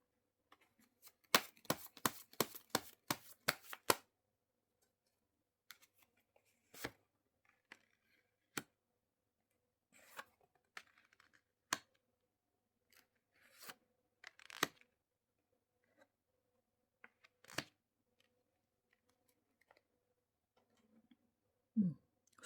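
Tarot cards are shuffled and handled close up, first a quick burst of crisp riffling snaps, then scattered soft slaps, slides and clicks as cards are laid out on a quiet table, with no talking.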